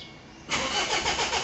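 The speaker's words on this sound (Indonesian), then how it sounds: "Kemudian setelah kita masukkan ke on, bisa kita starter mobilnya." A car engine is started, a brief cranking that catches into a running engine, rising abruptly from quiet to a steady idle hum, nearby and without speech.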